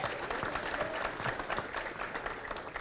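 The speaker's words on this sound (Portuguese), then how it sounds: "Aqui eu peço uma salva de palmas." An audience at a regional forum in Belo Horizonte claps steadily, a dense, even patter of many hands from a moderately distant crowd.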